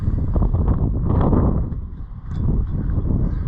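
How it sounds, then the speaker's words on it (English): Wind gusts buffet the microphone outdoors on a research farm, a loud, rough low rumble that swells, dips briefly near the end, then picks up again, with no voices. "Wind is blowing now."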